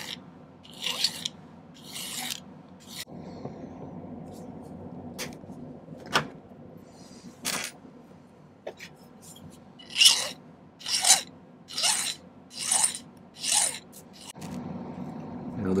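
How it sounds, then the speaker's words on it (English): A metal file rasps across the end of a silver pendant piece in a series of distinct strokes, each a short breathy scrape, close and clear over quiet room tone, speeding into steady back-and-forth passes. "So let me file one of these ends flat."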